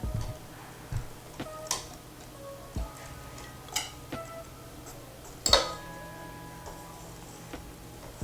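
Spoon or spatula working thick vegan pumpkin bread batter in a bowl, heard as soft scattered clinks and taps against the bowl at irregular intervals, close and fairly quiet, with no talking.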